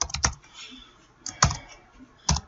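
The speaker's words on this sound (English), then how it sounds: "I'll just type it in." Keys clack on a computer keyboard in short clustered bursts, three separate flurries of close, crisp clicks with near-silence between them and no talking.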